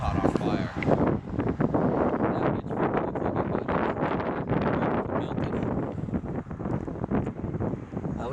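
Strong wind gusts buffet the microphone at a windy roadside gas station, a loud, steady broadband roar with rumbling low-end bursts throughout.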